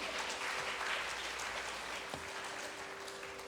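An indoor audience at a dance recital claps in steady, moderately distant applause that runs throughout without pause, with a faint tone humming beneath it.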